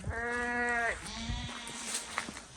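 A lamb lets out one long, wavering bleat up close, followed by a fainter lower bleat and soft outdoor rustling in a village pasture.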